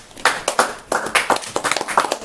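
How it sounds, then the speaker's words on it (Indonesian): Applause from a small audience at an arts gathering in Grabag, Magelang, with dense irregular clapping bursts that swell and ebb over a couple of seconds, close and fairly loud with no voices on top. "Tepuk tangan."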